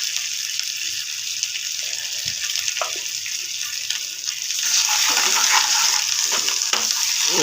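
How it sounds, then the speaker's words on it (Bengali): Spices for a lentil dal with fritters sizzle and fry in a pan while being stirred, a steady hiss that swells louder midway, with occasional scraping and a little water sound. "নেড়ে চেড়ে নিয়ে মশলাটা এমনি ভাজাই হয়ে গেছে"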